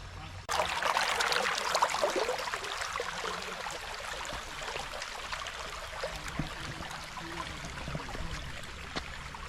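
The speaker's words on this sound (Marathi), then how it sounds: "पाण्याचा मंजूळ आवाज येतोय मित्रांनो." Stream water flows gently past Shri Gadge Maharaj Ashram at Sita Khandi, Nanded, making a continuous close rush and trickle that begins abruptly and then settles into a steady wash.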